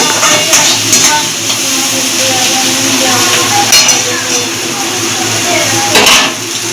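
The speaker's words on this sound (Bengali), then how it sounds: "কিছুক্ষণ পর ঢাকনাটা তুলে একটু নাড়াচাড়া দিয়ে" A pot lid lifting and a spoon stirring mixed rice in a home kitchen, with a steady clatter of metal and scraping under a constant sizzle-like hiss.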